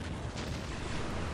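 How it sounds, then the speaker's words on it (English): Grenade launcher and Basilisk artillery blasts in the strategy game Dawn of War roll on without a break, a dense and continuous battle rumble of layered explosions with no single clear hit. "I'm being... blasted about by the grenade launchers and the basilisks"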